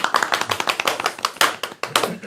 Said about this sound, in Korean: 녹화에서도 박수를 쳐주실 줄 몰랐습니다